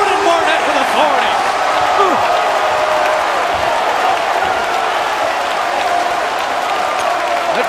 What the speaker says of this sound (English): That gets the Como crowd back up and roaring.